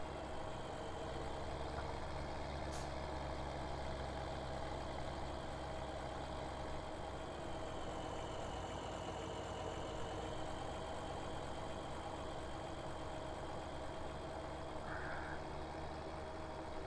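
An old, faulty farm tractor in Farming Simulator idles with a steady, even hum that holds for the whole stretch at moderate, constant loudness, with no voices.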